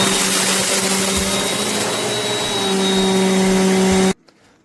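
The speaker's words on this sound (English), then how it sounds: "Just by hearing it, this thing's really powerful. So I'm gonna go vacuum." A Bissell CleanView compact upright vacuum runs loud and close with a steady droning motor hum and whine, then cuts off abruptly near the end.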